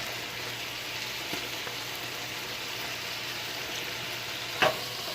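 Sausages frying and browning in a pan, a steady soft hiss and crackle of sizzling fat, faint and continuous, with one brief clink near the end.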